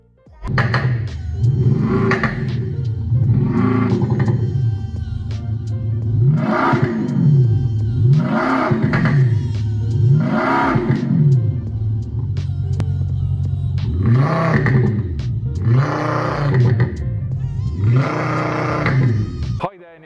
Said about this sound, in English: Watching another Miltech active sound system in this Tesla Model X